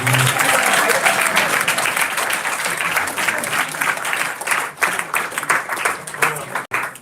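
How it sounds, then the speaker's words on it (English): Audience applause at an ISKCON 60th anniversary celebration honoring a swami after a play, dense and sustained clapping from a large crowd throughout, thinning slightly toward the end. "One more round of applause for Radhanath."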